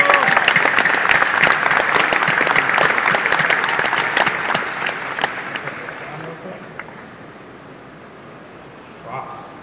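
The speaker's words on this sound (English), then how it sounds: "huge round of applause for Rorus from Pittsburgh" Crowd applause at a tech conference pitch final, loud and crisp at first, then gradually thinning and fading over the last few seconds as the clapping dies out.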